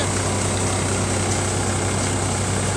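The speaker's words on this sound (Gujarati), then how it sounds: "લગભગ તેરસો આરપીએમ પર ટ્રેક્ટર ચાલે છે" A tractor running at about 1300 rpm drives a double combo-model thresher working a guar crop, producing a loud, constant low engine drone with a steady throbbing pulse and broad mechanical roar, no voices.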